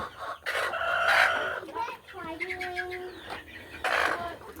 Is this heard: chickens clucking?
yes